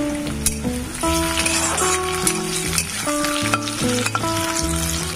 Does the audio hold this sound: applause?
no